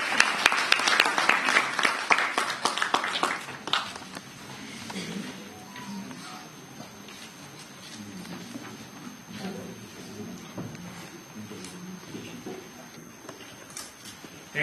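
Audience at an education conference's inaugural session applauds the chief guest, a professor, with dense clapping that starts strong and gradually thins into scattered claps and murmur over about fifteen seconds.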